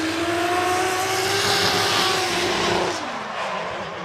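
Race car at the Suzuka Twin Circuit during drift qualifying, its engine held at a loud steady high-revving tone with tyre squeal layered over it, then dropping in pitch and easing off near the end.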